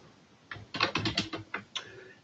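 Typing on a computer keyboard while entering figures into a spreadsheet, a quick irregular run of close keystrokes after a brief quiet start, with a final isolated key press.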